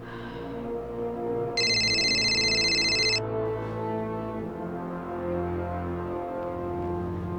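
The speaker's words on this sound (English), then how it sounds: "Come on, it's the phone." An electronic telephone rings in a single loud, bright burst of about a second and a half over a low background hum, in a television drama scene.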